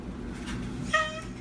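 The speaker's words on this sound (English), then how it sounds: "such a nice kitty" A pet cat named Teddy lets out a single short, close meow after a stretch of low room noise, with no talk during the clip.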